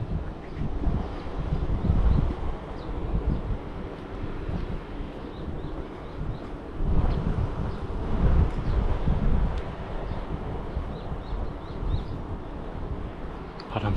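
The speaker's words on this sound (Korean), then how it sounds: "바람 살랑살랑하니 불고" Gentle wind blowing along a healing meditation forest trail in Yesan, South Chungcheong, heard as a steady, broad rushing with soft buffeting on the microphone and a low rumble, continuous for the whole stretch.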